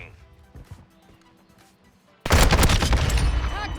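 Overwatch helicopter killstreak in Call of Duty MW2 opening fire: after quiet game ambience, a sudden loud burst of sustained rapid gunfire and impacts erupts and continues to the end.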